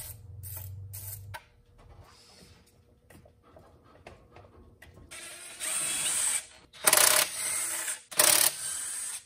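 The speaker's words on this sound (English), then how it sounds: "unscrew the positive terminal, take out 3 bolts, take off the belt" A car alternator is removed by unscrewing the positive terminal and taking out three bolts, heard as faint metallic clinks and handling noise followed by several loud bursts of a power tool or ratchet, close by and without talk.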